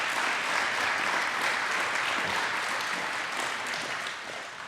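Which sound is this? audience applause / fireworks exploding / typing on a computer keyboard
audience applause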